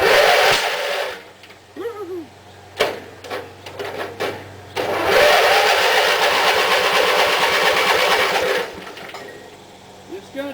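A car engine cranks over and over while being primed, giving a steady mechanical whirring burst, then a longer loud churning stretch. Voices talk excitedly between the cranks.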